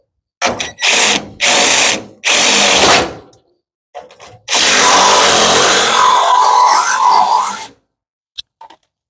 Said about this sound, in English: I just drilled a hole in this really nice rust-free steel nose.